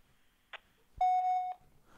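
An answering machine gives a single steady electronic beep lasting about half a second, loud and clean, right after a short click, with near silence around it.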